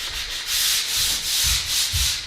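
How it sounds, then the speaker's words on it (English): Steady rhythmic light sanding strokes rasp back and forth with the grain across a new wood door, about four passes, close and fairly loud with a soft hiss. "this is just a really light sanding. Again, only with the grain"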